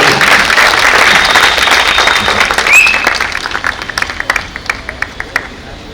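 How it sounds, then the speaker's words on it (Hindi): Theatre audience applauding the performers of the Hindi play-within-a-play "Pashchatap" at Rangbheri 2024, dense broadband clapping from a crowd that stays full for a few seconds then thins into scattered individual claps. "जोरदार तालियां इन सभी कलाकारों के लिए"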